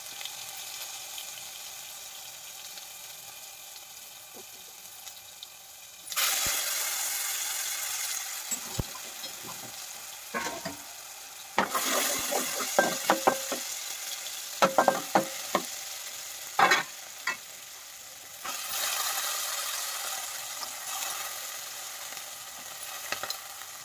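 Ginger garlic paste sizzles in a hot pan, with a sudden loud burst of frying when it is added, then steady crackling, spatters and stirring clatter and no talking.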